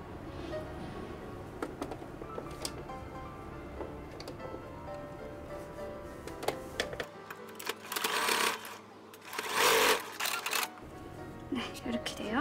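A sewing machine stitches fabric for a dog's summer sun hat, its whirring bursts coming in short runs in the later part over a quiet room, with a person talking.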